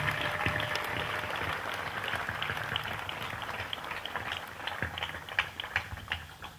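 Crowd at an evangelical crusade in Douala, Cameroon, clapping together in a steady, dense wash of applause with some louder claps toward the end, heard from within a large gathering.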